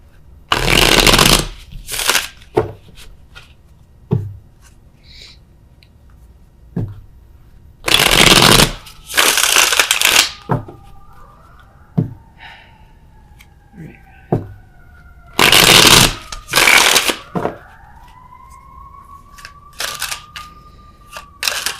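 Tarot cards are riffle-shuffled in several loud, close bursts of rapid flutter, separated by quiet gaps with small card taps. A faint siren wails in the distance part of the way through.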